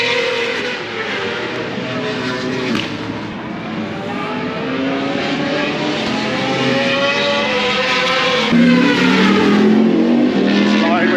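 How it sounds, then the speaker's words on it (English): Superbikes race past during a qualifying session, their high-revving engines rising and falling in pitch with each pass. The loud whine continues over nearby talk. "Super bikes are out right now doing a bit of qualifying."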